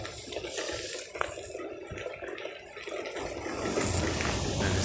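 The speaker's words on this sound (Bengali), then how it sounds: "সমুদ্রের ঢেউয়ের কি গর্জন" Big sea waves roar and crash continuously on the shore, a loud, dense wash of water noise that swells louder toward the end, with no voices.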